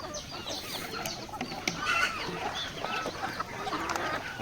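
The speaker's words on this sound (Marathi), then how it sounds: "ओरिजिनल गावठी कोंबड्या आहेत आपल्या" Native desi breeder hens on a poultry farm clucking and calling, several birds close by in an outdoor pen, with soft overlapping clucks and occasional sharper calls over light background noise.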